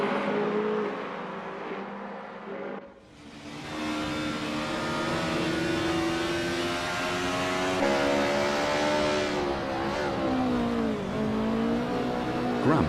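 DTM touring race cars at the race start at Hockenheim in a racing game, a pack of engines revving hard and climbing through the gears together, loud and sustained, with a brief dip before the field surges away.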